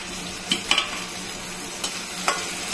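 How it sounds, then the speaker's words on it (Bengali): Sliced potatoes fry in a pan of hot oil with a steady soft sizzle, broken by a few sharp clicks of a spatula stirring and scraping the pieces. "এখন আলু দিয়ে একটু ভাজা ভাজা করব"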